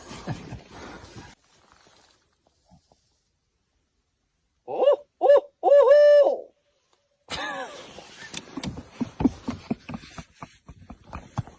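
After some talking, a voice imitates a barred owl with a short series of loud hooting calls, then more talk follows.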